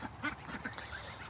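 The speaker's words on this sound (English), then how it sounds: "these are just our ducks and geese." Farm ducks and geese give a few faint, scattered quacks and honks at a distance over a steady background hiss during evening chores.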